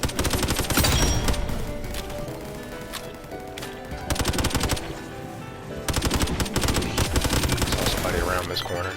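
A rapid-firing gun in Roblox Gun Game lets off fast bursts of roughly 800 rounds per minute, loud repeated volleys separated by short pauses, with a voice talking over the shooting.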